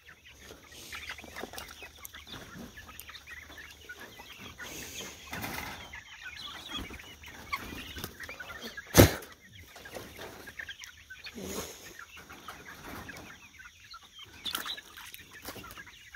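Chickens cluck softly in a homestead garden, with scattered calls, a sharp flutter of wings midway, and quiet outdoor ambience throughout.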